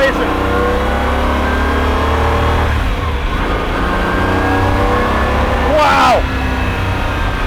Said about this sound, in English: It's really fast and it revs really, really quickly.